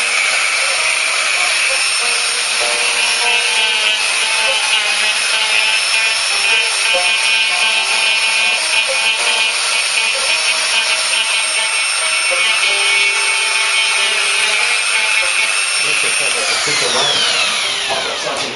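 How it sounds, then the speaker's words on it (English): Angle grinder cutting through a large tree branch, with a loud, sustained high whine that runs steadily for most of the time before spinning down at the end. "We just use angle grinder."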